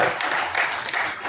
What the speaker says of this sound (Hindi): एक बार तो उनके लिए ताली बजाइएगा।